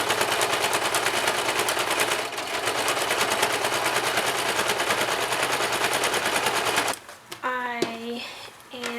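A sewing machine stitching a seam on a quilted knitting bag, a loud, fast, continuous mechanical rattle running for about seven seconds before stopping, then someone speaking.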